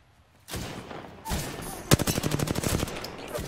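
Gunfire in Apex Legends: a single sharp shot, then another, followed by a rapid automatic burst of evenly spaced rounds, loud and close.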